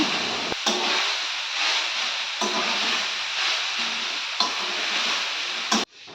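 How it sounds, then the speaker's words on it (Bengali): Kalmi greens (water spinach) fry in a pan, a loud, continuous sizzling hiss broken by a few sharp stirring scrapes and clatters, with no voices. "কলমি শাকটা আমি একটু ভেজে নিলাম"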